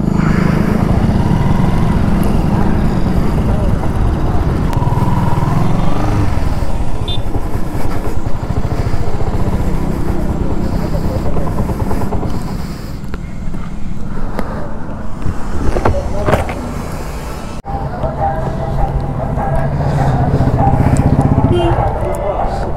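A freshly serviced motorcycle engine runs steadily at a repair shop, a continuous close rumble with people talking over it for most of the time.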